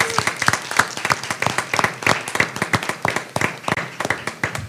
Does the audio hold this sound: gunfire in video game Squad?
no